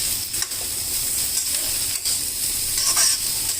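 Bottle gourd stirred in a pan with red lentils and fenugreek leaves, sizzling and frying steadily with a constant hiss and occasional scraping of the spoon, close and fairly loud.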